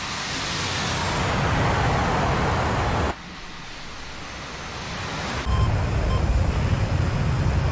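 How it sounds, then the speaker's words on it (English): AJS37 Viggen jet engine roaring on afterburner in the DCS flight simulator: a loud, broad, continuous roar that drops sharply, then surges back up as the burn stages change. "So 3 stages of burn for the afterburner."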